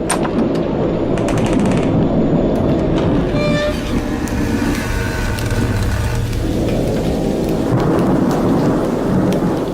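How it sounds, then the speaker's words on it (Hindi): Loud thunderstorm on a night with heavy, steady rain and rolling thunder cracks, a dense continuous roar throughout. "पर मैं इस भयानक तूफान में बुरी तरह फंस गया हूँ"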